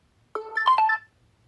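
Oppo A16 phone ringtone: a short bright electronic melody of a few quick chiming notes, about half a second long, played alone and moderately loud.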